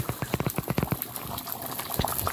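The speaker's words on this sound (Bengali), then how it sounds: "কুমড়োর তরকারি একেবারে টকবক করে ফুটছে" A pot of pumpkin curry bubbles at a rolling boil, with a quick run of popping bursts followed by steady gurgling, close up.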